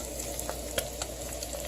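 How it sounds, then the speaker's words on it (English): Spinach sizzles in a hot frying pan, a steady close crackle of oil with a few sharper pops and spits, with no talking. "I have the spinach in there, so I took it there. You can hear it sizzle."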